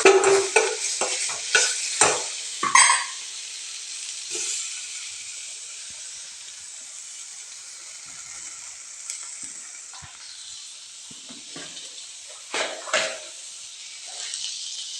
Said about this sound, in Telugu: టమాటాలు వేయించేటప్పుడు ఆయిల్ యాడ్ చేస్తామండి